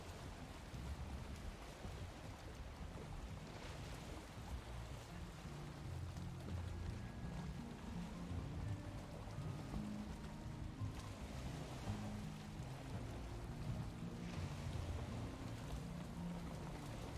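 A boat sails on the sea in Valheim, with a steady, quiet wash of water and waves and a low rumble of wind throughout, without voices.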